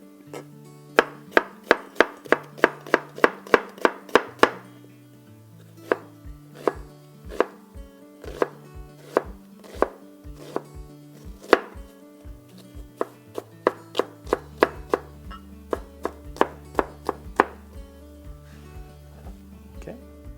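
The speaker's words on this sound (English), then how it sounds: "I'll cut up the white onion now." A knife chops a white onion on a board in a quick, steady run of sharp taps with a few pauses in between, heard over soft background music.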